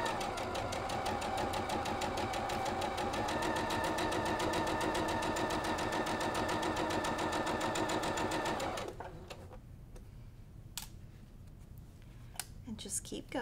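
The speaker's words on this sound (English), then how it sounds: "Stitch directly on that line." A sewing machine stitching a Sawtooth Star quilt block, a fast, steady close-up mechanical whir and chatter running continuously for about nine seconds before stopping, followed by quieter handling clicks.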